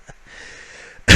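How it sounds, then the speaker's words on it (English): One short, loud throat clear from a man at a tabletop wargame, bursting out at the very end after a second of quiet breathing. "Let me clear my throat."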